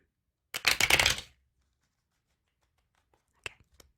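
A deck of tarot cards is shuffled by hand in one brisk riffling burst, followed by silence and a few faint card taps.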